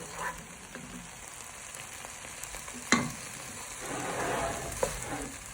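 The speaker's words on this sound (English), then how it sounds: "Now you add your stock." Stock poured into a hot pan of prawns and chorizo sets off a soft, steady sizzle with a sharp splash and clatter midway, then a louder crackling bubbling that settles back, close up and without talk.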